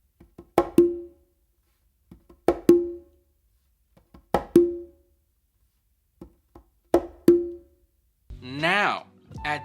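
Four conga figures, each a crisp close slap followed at once by a ringing open tone, with soft ghost-note taps between the phrases, evenly spaced and close-miked, ending in a short burst of a different, busier sound.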